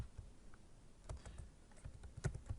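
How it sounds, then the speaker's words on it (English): Typing on a computer keyboard while entering a product search for puzzle books on Amazon; faint, irregular clusters of soft key clicks, close by, with no talking. "And I'm going to go to books, and I'm just going to type in puzzle books."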